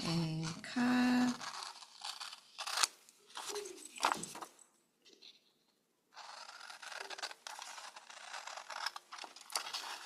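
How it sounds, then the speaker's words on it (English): Scissors snipping through paper to make a Halloween paper bag haunted house, a series of close, crisp cuts and rustles with a quiet pause partway through. "Follow line and cut."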